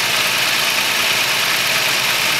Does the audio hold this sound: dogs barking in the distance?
no